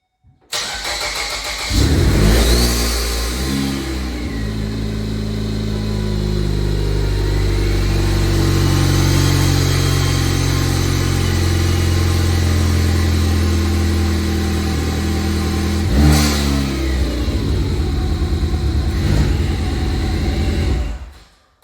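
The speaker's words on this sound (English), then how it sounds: "There's no mass air sensor hooked up, so it's probably going to run pretty rough." A 2013 Ford Escape engine with no mass air sensor connected cranks and catches, then runs unevenly at a steady idle for a long stretch before a brief blip and cutoff; loud and close, no talking.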